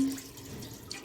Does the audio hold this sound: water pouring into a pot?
yes